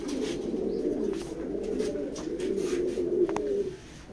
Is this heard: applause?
no